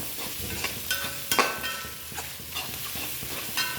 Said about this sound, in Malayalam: അതിനുശേഷം വെളുത്തുള്ളി നല്ലതുപോലെ ഇളക്കി യോജിപ്പിക്കുക